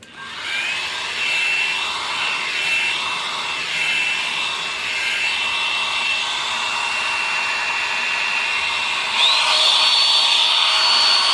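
A hair dryer blows steadily and loudly near the hair roots as it heats them, a constant whooshing hiss whose pitch shifts slightly toward the end, with no talking.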